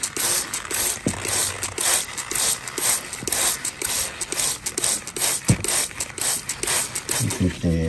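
A trigger spray bottle pumped repeatedly while cleaning a limonite and hematite rock sample, giving a fast, loud run of close mechanical clicks and hissing squirts that continues throughout, with a voice faintly in the background.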